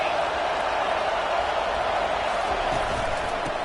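A dense, steady roar from a football stadium crowd cheering fills the whole stretch, loud and continuous without breaks.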